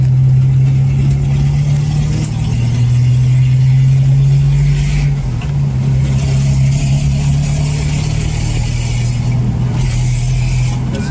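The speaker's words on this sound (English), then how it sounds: "Floor it in fourth gear." A Jeep with a sputtering problem, after a crankshaft position sensor replacement, is floored in fourth gear on the road, a loud steady low engine drone holding throughout with a slight shift in pitch midway.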